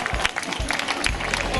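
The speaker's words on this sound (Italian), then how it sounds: "Un applauso anche alla signora" Brief applause from an audience at a live evening show in a town square in Porto Torres, Sardinia, dense and steady throughout with a busy crowd wash.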